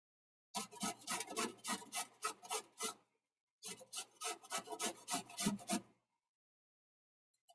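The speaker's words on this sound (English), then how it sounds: "This is my little workhorse of a box grater." A box grater rasps through food in two runs of quick, rhythmic strokes, close and crisp, with a short pause between the bursts and silence after.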